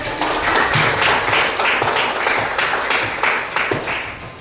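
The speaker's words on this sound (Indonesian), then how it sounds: "tepuk tangan dulu untuk kita semua nak" A classroom of students applauds together, a dense, even burst of clapping that fills the room loudly and continuously for several seconds with no talking over it.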